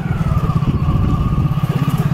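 A small motorcycle engine chugs with an uneven, sputtering throb as a learner rider struggles with the clutch, steady and close throughout with no talk.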